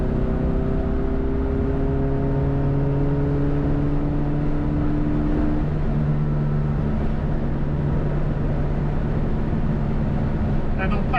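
A Classic Mini car booted from a 60 mph cruise to full throttle, giving a loud, sustained engine drone with steady harmonic tones and heavy road and wind roar throughout.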